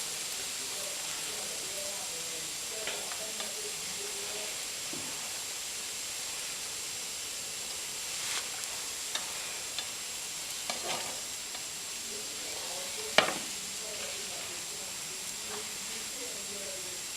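A crêpe frying in a pan gives a steady soft sizzle and hiss that lasts throughout, with occasional faint clicks and scrapes from the pan, heard close and fairly quiet.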